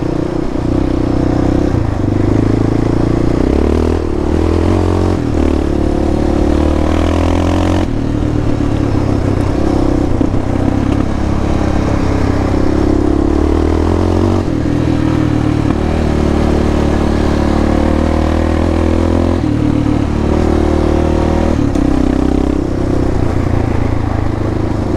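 A Honda TRX ATV riding a trail in the Black Hills of South Dakota, its engine droning loudly and continuously with shifting pitch as it revs and eases, along with rattling and clatter over rough ground.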